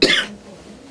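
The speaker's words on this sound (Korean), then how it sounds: "감기 기운이 나섰지를 못하게 해주고 기침이 좀 나고 있습니다" A single short cough from someone with a cold, loud and close, followed by quiet room tone.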